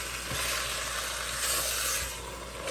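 Tomato sauce with a few tomatoes is poured into a hot pan holding leftover meatloaf, giving a steady close sizzle and frying hiss that swells briefly midway and carries on without voices.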